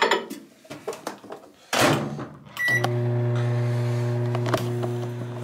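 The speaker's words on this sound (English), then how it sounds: "Now put it in the microwave." A microwave oven runs with a steady electric hum and tonal drone, starting after a few clicks and door clunks, running continuously and fairly loud to the end.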